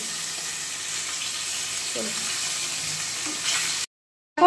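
Hilsa fish frying in hot oil, a loud continuous close sizzle with faint voices underneath, cutting off abruptly near the end.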